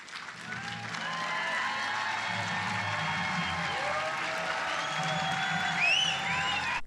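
An audience at the LBJ Library claps steadily for President Biden at a civil rights anniversary event. The dense applause continues throughout, with whoops and cheers rising near the end.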